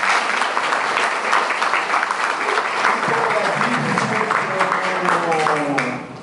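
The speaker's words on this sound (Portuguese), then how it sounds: "Mais uma vez, pedir mais uma salva de palmas para esse homem maravilhoso" Audience applauds a man at a public event, the clapping dense and sustained from start to finish while a voice talks beneath it.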